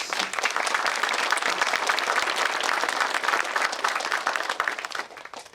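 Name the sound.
audience applause at a groundbreaking ceremony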